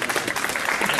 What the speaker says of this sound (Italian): Gli fate un applauso per cortesia.